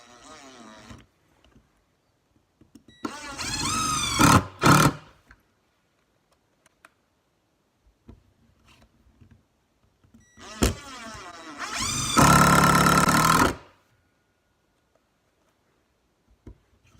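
A Ridgid brushed cordless power tool running in two loud bursts with rising and falling motor whine, separated by near silence and scattered faint clicks.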